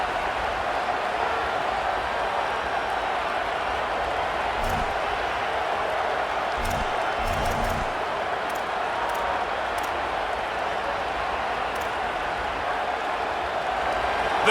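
Stadium crowd in CFB 26 cheers steadily behind the defense during a red-zone stand, a dense continuous roar with a few sharp thumps, heard under commentary.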